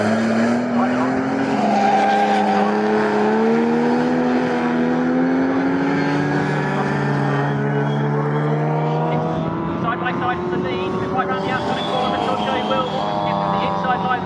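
Pre-1963 race cars lap Snetterton circuit, engines howling loud and close with rising and falling pitch through gear changes, several cars overlapping, while a commentator talks throughout.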